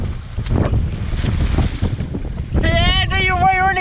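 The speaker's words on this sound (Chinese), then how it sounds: "今天这海浪跟疯了似的" Rough, strong sea waves crash and wash against a dock in heavy wind, with gusty noise blasting the microphone and a sudden loud whooshing surge near the end.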